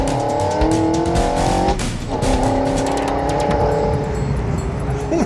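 A Mazda Miata fitted with Fiat 124 Spider wheels races hard around a track, its engine loud and close, rising in pitch through gear changes while the tires squeal continuously.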